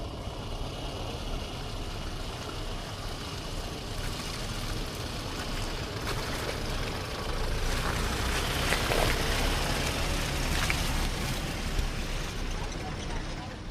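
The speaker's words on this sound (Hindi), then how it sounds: "पूरा मिट्टी गीला होने की वजह से टायर स्लिप स्लाइड सब कुछ हो रहा था।" A car off-roading on a wet, muddy dirt track toward village paddy fields, its tyres slipping: a steady, close engine rumble with broad rushing noise that swells slightly partway through and holds throughout.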